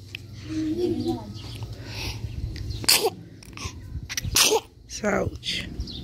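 A child sneezes sharply, a loud close burst amid a busy family lunch, followed by a few more breathy bursts and scattered voices talking nearby.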